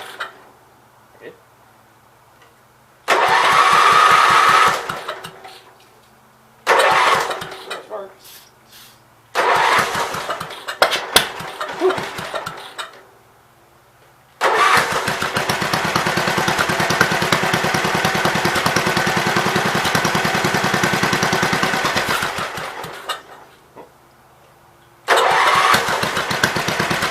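A small engine that runs on carb cleaner sputters to life in repeated loud bursts, dies, and restarts several times, with one longer run of steady rough running near the end; no one speaks.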